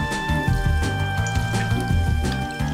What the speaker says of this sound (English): Rinse hands thoroughly with running water